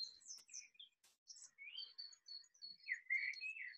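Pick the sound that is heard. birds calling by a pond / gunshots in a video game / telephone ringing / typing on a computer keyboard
birds calling by a pond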